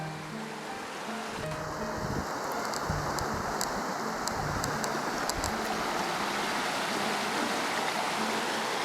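Creek water rushing steadily beside a hiking trail, a loud, close, continuous wash with no one speaking.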